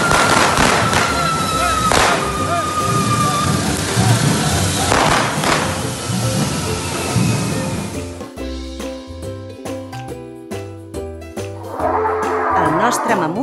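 Firecrackers bursting loudly in rapid, crackling volleys at a correfoc fire-run during a town festa major, with dense overlapping bangs and thumps and crowd noise beneath.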